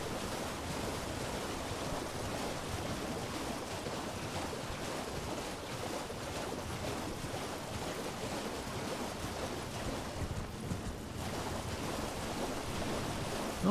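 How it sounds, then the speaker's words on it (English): Rain falls on a lake in a video game, a steady close hiss of dense droplets that holds evenly for the whole stretch with no voices over it. "And now it's raining."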